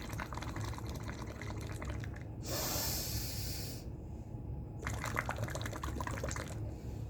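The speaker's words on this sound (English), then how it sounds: "So you have to blow out completely by making bubbles." Breath blown out through a tube into water makes bubbling gurgles, with a loud hissing exhale in the middle and another bubbling stretch after, close and alone in a quiet room.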